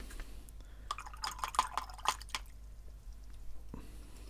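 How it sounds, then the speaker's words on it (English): Watercolor round brushes swished and tapped in a water bucket, giving a cluster of soft close splashy drips and sloshes for about two seconds, then quiet. "So I just swish them around in the water bucket"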